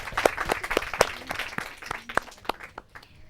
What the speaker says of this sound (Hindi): तालियां तिरंगा टीम के लिए